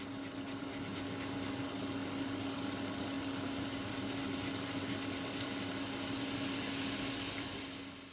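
Garlic and ginger sizzle in hot oil for a beef stew, a steady close hiss of frying with a constant low hum running underneath throughout.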